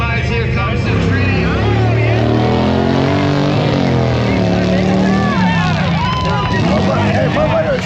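Drag racing motorcycles at a rally launch and shift gears: loud, rising engine roars with pitch drops at each shift, mixed with crowd noise and voices close by.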